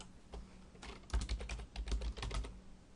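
Fingers type credit card details on a computer keyboard, a quick uneven run of close, soft key clicks over a faint background hum.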